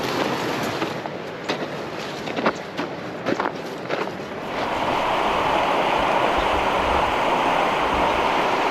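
The Teton River rushing at a river crossing in Eastern Idaho, with footsteps crunching over stones first, then a steady, close, broadband roar of flowing water.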